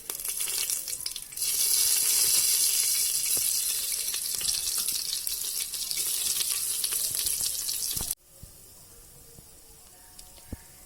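Whole garam masala dropped into hot ghee in a pressure cooker for Malabar prawn biryani bursts into a loud, close, continuous sizzle that holds for several seconds, then drops suddenly to a faint crackle.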